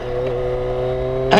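BMW K1300S motorcycle engine idling and revving steadily at close range, a continuous rumble with firm harmonic tones, swelling sharply into a louder blip at the very end.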